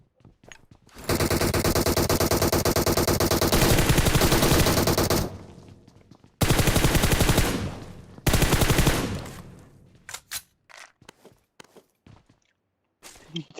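Gunfire in a battle royale video game: long, loud, sustained bursts of rapid automatic fire, a short pause, then another burst, followed by scattered single shots and clicks.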